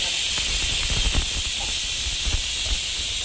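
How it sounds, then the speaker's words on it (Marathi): Chopped onion frying in hot oil for a village-style mutton curry, a steady close sizzling hiss with soft crackles and pops throughout, no voices. "जर गरम गरम तेल असेल ना त्याला कांदा भाजतो."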